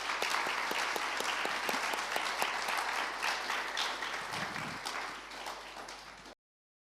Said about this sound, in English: a warm round of applause for our two conversationalists